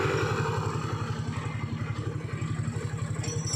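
A motorcycle engine that has just started runs at a steady idle, its even, rapid low putter close and continuous with no talking over it.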